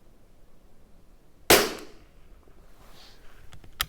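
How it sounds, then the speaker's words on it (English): A Tikka T1x .22 LR rimfire rifle fires a single sharp, loud shot at a target, followed by a quick fading tail and faint handling noises, with no talk. "I'm going to shoot on the target."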